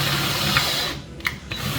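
A power drill whirs steadily while drilling out the lock on a Stern pinball cabinet, running continuously at close range before cutting off, followed by a few brief bursts of the motor.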